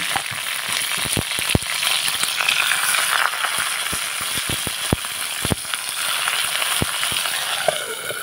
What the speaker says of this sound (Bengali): এখন আমি একটা কড়াই বসিয়ে দিয়েছি। কড়াই অল্প তেল দিয়ে দিয়েছি। এক এক করে চাপা শুটকির বড়াটা দিয়ে দিব।